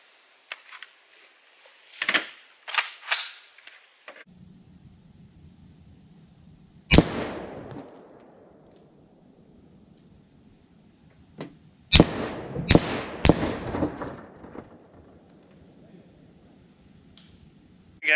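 Gunshots fired at a truck door at a range: loud sharp cracks, one alone and then a rapid cluster of several, each trailing into a reverberant decay, with some scattered knocks and handling noise between.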